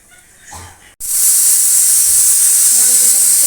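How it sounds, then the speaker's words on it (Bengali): A pressure cooker boiling pineapple lets out a loud, steady steam hiss that bursts in suddenly after a brief pause and continues unbroken, drowning out faint background sounds. "আনারসটা সিদ্ধ হচ্ছে, দেখো প্রেসার কুকারে।"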